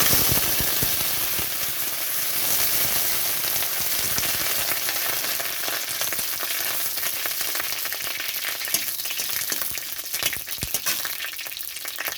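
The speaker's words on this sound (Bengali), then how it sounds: "সর্ষের তেলের মধ্যে দিয়ে দিচ্ছি একটা শুকনো লঙ্কা।" Loud, steady sizzling of a dry chili frying in hot mustard oil, a dense crackling hiss that continues throughout with occasional sharper pops.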